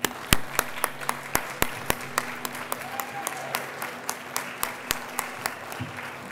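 A handful of people at an animal survivor recognition ceremony clap in slow, sharp, evenly spaced claps, each crisp and distinct against a quiet room hum rather than a dense crowd roar.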